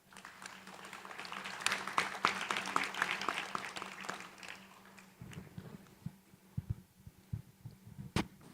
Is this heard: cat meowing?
no